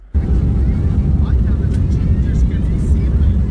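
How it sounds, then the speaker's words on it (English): Inside an airplane cabin as it departs, a loud, steady low roar of engines fills the whole clip, recorded close on a phone, with no clear voices. "I recorded the plane departing with my voice memos."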